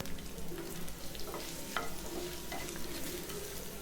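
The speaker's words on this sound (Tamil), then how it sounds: "இது எல்லாத்தையும் சேர்த்துட்டு நல்லா இதை வதக்கி விட்டுடலாம்." Curry leaves, garlic and dried chillies sautéing in hot oil in a pan, a dense crackling sizzle with a few sharper pops and stirring scrapes, close and unbroken, no voices.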